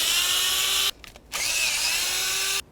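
A power tool spins out two cover bolts on a 2004-2012 Volvo S40, heard as two steady high whirring runs separated by a short pause, close and clear, with no talk.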